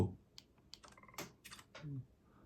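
Ray-Ban Meta smart glasses capture button clicked to take a photo, giving a few quick, faint clicks and a short shutter-like tick in a quiet room, with no talking over them.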